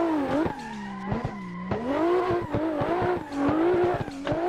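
Car drifting along Akina pass in Assetto Corsa, with a revving engine that rises and falls while tires squeal in long sliding wails and short chirps, loud and close, with no talk.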